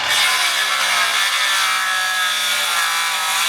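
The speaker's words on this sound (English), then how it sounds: "Plunge cut. So it's just swing down, pivoting on the front of the guard." Power saw plunge-cutting through wooden deck boards, a loud, continuous, harsh whine of the blade biting wood, close and steady throughout with no talking.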